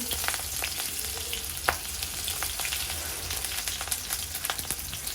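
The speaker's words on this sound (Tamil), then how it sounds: "சின்ன வெங்காயம் போடணும். மிளகாய் போடணும்." Small shallots and chillies fry in hot oil for a Kilinochchi-style prawn curry, a steady close sizzle with scattered sharp crackles and pops and occasional stirring scrapes, no talk over it.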